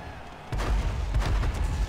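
A tank cannon fires in World of Tanks during a tank football match: a sudden heavy boom lands about halfway through, followed by rumbling low blasts and a sustained roar.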